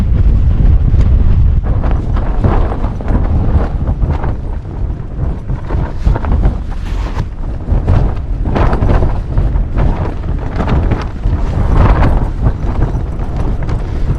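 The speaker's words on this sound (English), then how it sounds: "Definitely notice the difference between this tent's performance in the wind and all my other tents." Strong wind gusting and buffeting against a Hilleberg Soulo tent pitched in snowy conditions, a loud, continuous roar with rhythmic flapping bursts of fabric throughout, no voices.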